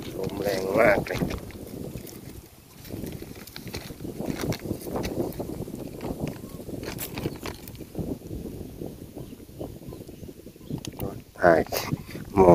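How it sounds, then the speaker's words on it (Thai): Strong wind gusts buffet the microphone beside a village fishing pond where a cast net is being thrown, a steady roaring rush with louder bursts throughout. "ลมแรงมากเลย"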